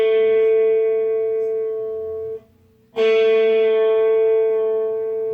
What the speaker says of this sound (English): You can hear me pressing and then releasing.